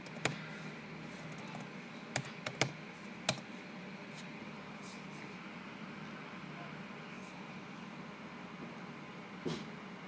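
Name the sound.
typing on a computer keyboard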